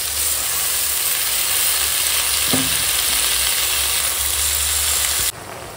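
Chopped spinach and vegetables cooking in a pan with added water, giving a steady, close frying sizzle and hiss that runs unbroken, with a brief stir or clink partway through.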